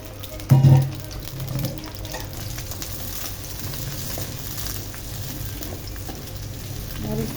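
Chilli and onion hit a hot pan with a brief louder splash, then settle into a steady, even sizzle of frying that runs throughout at moderate level.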